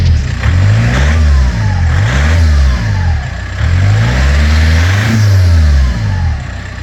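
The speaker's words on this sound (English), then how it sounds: "Ready for the turbo sounds." A VW Passat PD150 diesel engine is blipped repeatedly near the microphone, each loud rev rising and falling in a steady rhythm while a faint turbo whistle rides on top.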